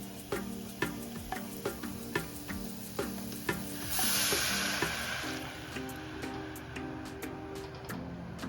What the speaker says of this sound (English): Just going to add some red wine to that. And just let it cook away.